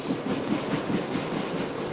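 A freight train passes close trackside in Ohio, with a loud, steady rumble of locomotives and rolling wheels filling the whole stretch, no voices.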